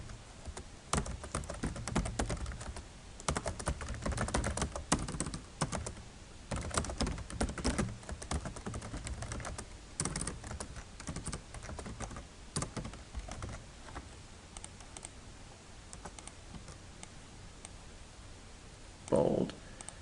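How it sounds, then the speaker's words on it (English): Keys clatter on a computer keyboard while someone builds a webpage, with irregular bursts of close, crisp tapping running throughout and quieter pauses between them. "you got to type it again"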